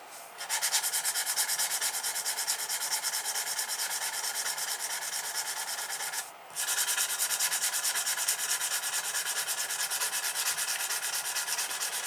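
Steady sanding strokes on a Fender Thinline Telecaster guitar neck, a continuous close, even rasping hiss that briefly pauses midway before resuming, with no voices.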